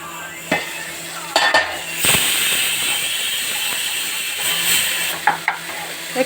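Onions with tomatoes sizzle steadily in hot oil in a pan, a continuous close hiss with a few sharp clinks and scrapes from stirring.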